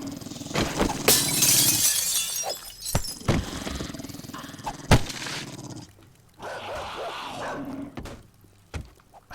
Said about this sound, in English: so much for avoiding those dogs.